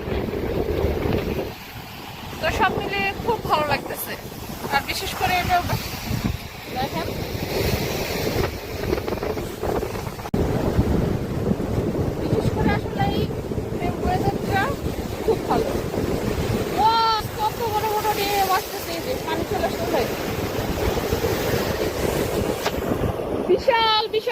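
Strong wind buffets the microphone at a seashore, with surf and waves rumbling steadily underneath throughout; a voice speaks intermittently over the gusty roar.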